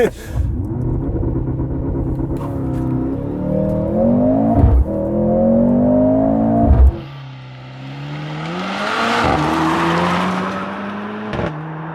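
A 2024 Mercedes-AMG GLC 43 engine revs hard on a launch and climbs through rising pitches, cuts off, then roars up again with tire noise, loud and close.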